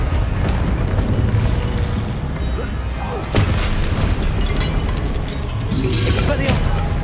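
A Confringo blasting spell explodes in Hogwarts Legacy, a loud booming burst amid continuous dense game action, with a sharp hit near the middle and more blasts toward the end, under a voice shouting spell names.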